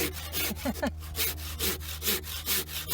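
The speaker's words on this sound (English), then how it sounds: "Cutting your axle out." A hand saw cuts through a wooden trebuchet axle, producing steady back-and-forth rasping strokes at close range, with a brief pause partway through before the sawing resumes.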